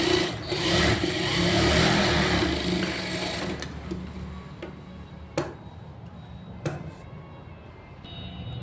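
A sewing machine hums steadily while sewing a double stitch on a blouse, then winds down, leaving scattered clicks and ticks of fabric handling against a quiet background.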